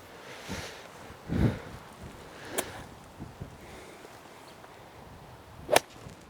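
A sharp swish and crisp strike of a 9-iron hitting a golf ball out of the rough on a cold, windy course, with wind noise and another faint swish moments later.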